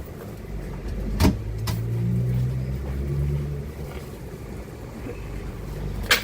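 Red Eagle X500 bus, registration YA71 OHG, on a Buckinghamshire service, heard from inside the cabin: a steady low engine and road drone with a couple of sharp knocks near the start and end.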